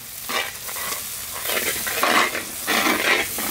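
Spice paste of ground onion, ginger and garlic sizzles and crackles in hot oil as it is stirred into fried egg curry with long eggplant and cauliflower, a steady close frying hiss with scraping stirs throughout.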